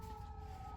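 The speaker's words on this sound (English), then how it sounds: "Apologize for the sirens in the background" A siren wails faintly in the background, a steady high tone over a low rumble of distant traffic.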